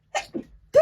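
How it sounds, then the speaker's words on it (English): A close, sharp sneeze: a quick intake, a short pause, then a loud explosive burst. "I'm just going to sneeze"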